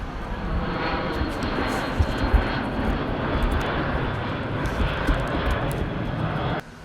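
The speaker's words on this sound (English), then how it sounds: "just giant airplanes pass by" Large airplanes pass overhead near an airbase, a loud continuous engine roar that holds steady for several seconds before cutting off abruptly, with faint clicks nearby.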